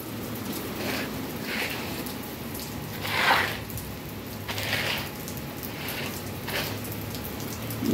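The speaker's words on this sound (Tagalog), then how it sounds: "Ay. Maulan." Steady rain falls on an Easter Sunday, a continuous even hiss of drops on surfaces nearby with occasional slightly louder splashy swells and no talk.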